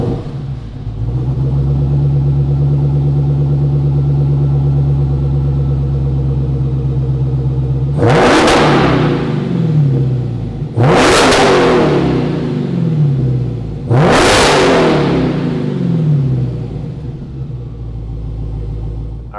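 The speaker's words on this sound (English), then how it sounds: "Let's fire up this Redeye EXTREME and see what it sounds like." A custom Dodge Challenger Hellcat Redeye idles in a garage with a deep, steady, loud rumble, then its engine is revved hard three times in a row, each bark rising sharply and falling back to idle.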